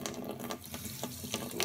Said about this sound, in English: So I'm just going to add some water onto this.